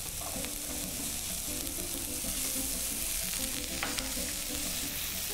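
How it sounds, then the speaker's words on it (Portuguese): Chopped onion with red and green bell pepper sizzles steadily in a hot frying pan for a Spanish tortilla, with occasional stirring scrapes over a constant close, loud hiss. "vou refogar um pouco da minha cebola. Vai também o pimentão."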